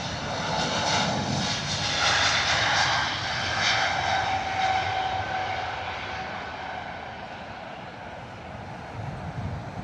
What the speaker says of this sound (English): Swiss 220 heading out to Zurich this morning.